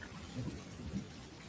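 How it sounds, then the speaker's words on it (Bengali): Heavy downpour sets the scene for a ghost story at a deserted riverside ghat, a soft steady rain hiss with faint low rumbles, with no voice. "পায়ের নিচে কাদা, মাথার ওপর অঝোর বৃষ্টি।"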